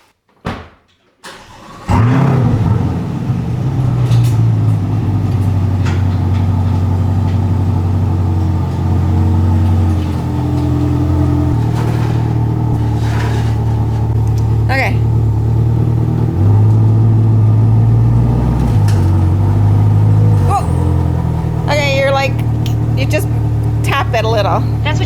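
A Chevrolet Corvette C8 creeps up onto ramps with its engine rumbling in a steady low drone and small throttle changes, after a brief quiet start; people talk over it.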